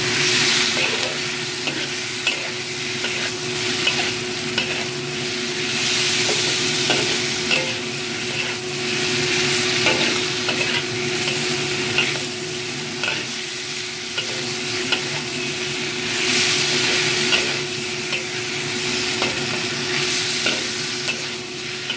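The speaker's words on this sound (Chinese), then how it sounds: "我會落埋啲洋葱落去，啲洋葱咧擠埋落去一齊炒" Onions stir-frying in oil for Taiwanese Huadiao chicken, a loud, steady crackling sizzle under constant stirring, with small utensil clicks throughout and no talking.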